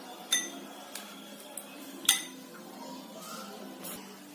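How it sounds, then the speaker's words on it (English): Lemon water goes into a glass of turmeric water: a few sharp glass-and-utensil clinks spaced over a few seconds, close by against a quiet background hiss. "Now I am going to add lemon water in another glass of turmeric water."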